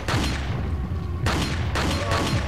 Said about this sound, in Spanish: ¿Te puedo matar a tiros con el revólver,